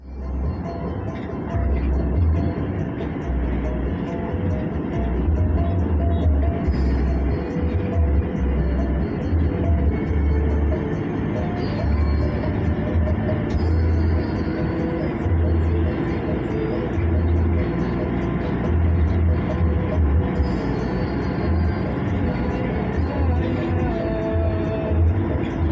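Steady loud engine drone and road rumble inside a super executive coach travelling between Jogja and Jakarta, with subtle rhythmic low pulsing as the driver shifts gears smoothly, continuous throughout.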